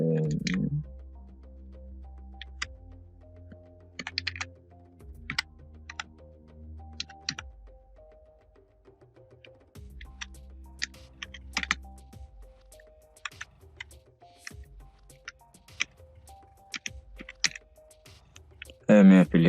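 Someone types a description on a computer keyboard in short bursts of close, crisp key clicks separated by pauses, with a low background hum in places.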